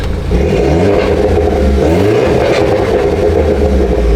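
An R56 John Cooper Works Mini with a decat exhaust and an AEM induction kit revs loud and close, its engine note climbing and falling through repeated blips with a raspy, droning tone.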